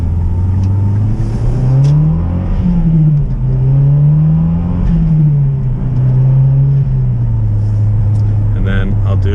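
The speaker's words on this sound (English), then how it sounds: "You can actually hear the turbo and the air going into the motor and the bypass valve blowing off." A Mazdaspeed 6 with a CorkSport Stage 2 SRI intake drives steadily, its engine drone rising and falling through gentle acceleration, with faint turbo whoosh and bypass valve hiss at the end.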